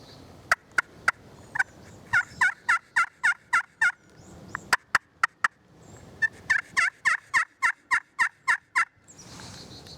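Turkey call worked with a rock maple striker gives repeated runs of close, rhythmic yelps and sharp clucks, slightly soft and less crisp in tone, with short pauses between sequences and no voices.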